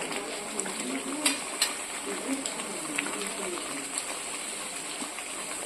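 Raw cleaned prawns dropped into hot oil for a prawn pickle, giving a steady broad sizzle and gush with a few brief clinks and crackles scattered through it, close and even throughout.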